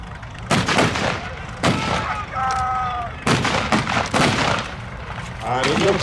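Heavy gunfire during a re-enactment of the capture of the Tiger 131 tank at The Tank Museum: several loud, sharp reports at irregular intervals, with a voice commentating in between.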